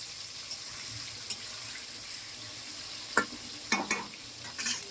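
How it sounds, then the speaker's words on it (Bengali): Potatoes frying in oil make a low, steady sizzle, with a few sharp clinks and scraping stirs punctuating it near the end; close, no talking. "আলুগুলো প্রথমে ভেজে নেব"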